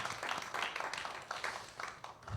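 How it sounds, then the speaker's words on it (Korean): Church congregation at a Sunday afternoon service in Siheung claps in quick bursts, a soft rhythmic patter of many hands rising and dipping several times. "우리 박수로 하나님께 영광 올려드립니다."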